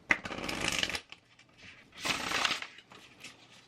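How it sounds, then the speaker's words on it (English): Tarot cards riffle-shuffled twice, each a quick rattling flutter lasting about a second, followed by a soft tap of the deck settling, close by. "it shuffles, like, it bridges, riffle shuffles really well"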